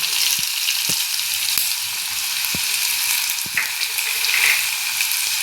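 Eggplant curry sautéing with masala in a pan gives off a steady, close sizzle of frying, broken by a few soft clicks of stirring, with no one talking.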